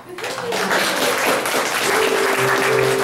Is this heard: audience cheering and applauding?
yes